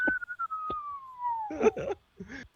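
A voice imitates the descending whistle of a bomb falling during a tabletop D&D game. A single long gliding whistle sinks steadily in pitch, and brief spoken syllables follow at the end.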